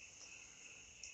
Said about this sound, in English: not sure how much of that noise is crickets and how much is frogs.